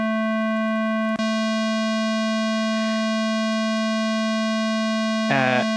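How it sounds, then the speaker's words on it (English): A pure, steady synthesized sine tone at 220 Hz, produced by filtering out all harmonics, hums continuously, with a brief click early on and a short burst of brighter tones near the end. "you've actually just got a sine wave again because it's filtered out all the harmonics"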